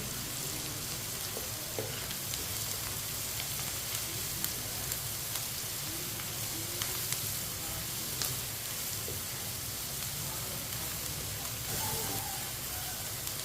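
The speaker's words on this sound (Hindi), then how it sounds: "मसालों को 1 मिनट के लिए पका लेंगे" Ground spices, turmeric, coriander powder and crushed red chilli, sizzle in hot oil in a pan while cooking tinda (round gourd) curry: a steady, close frying hiss with faint crackles and occasional stirring scrapes, without speech.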